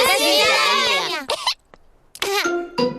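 Animated Peppa Pig characters, a dog and a sheep, give a few short voiced coughs between bursts of childlike cartoon speech, with a brief pause of near silence in between.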